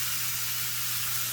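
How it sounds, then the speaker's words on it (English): Onions sizzle on a Pampered Chef deluxe grill and griddle beside steak, producing a steady, close hiss that runs unbroken throughout with a faint low hum beneath it. "Ooh, listen to that. Put our onions on there."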